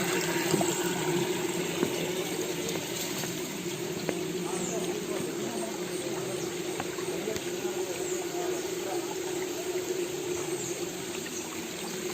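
The Vattayi waterfall gives off a steady, dense rush of falling water that stays loud and unbroken throughout, heard from nearby.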